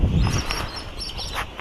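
Birds in a pet bird shop selling hand-reared parrots, giving brief chirps and calls over a busy indoor background.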